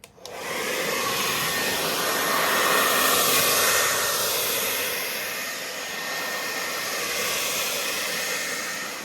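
A hair dryer blows steadily over freshly poured acrylic paint for a Dutch pour, a loud, close, continuous airy roar that swells slightly and then eases, with no voices.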